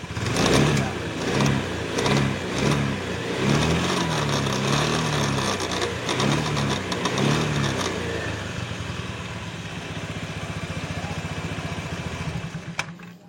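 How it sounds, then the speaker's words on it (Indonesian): A scooter's CVT rattles and clatters under throttle, a rough mechanical knocking over a pulsing, revving engine that rises and falls in repeated bursts, then settles to a steadier running drone. "Terdengar suaranya saat gas ya, kemertak ya"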